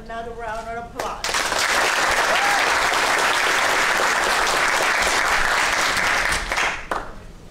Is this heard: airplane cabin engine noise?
no